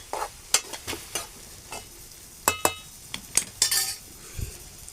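Onion being stirred and sautéed in a pan until browned, with a spoon scraping and clinking against the pan in irregular bursts over a soft, steady sizzle.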